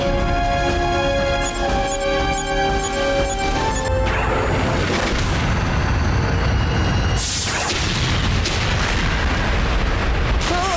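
A loud cartoon explosion blast from an animated superhero-villain episode, bursting in after a rhythmic musical stretch and leaving a dense, crashing roar that fills the rest of the scene.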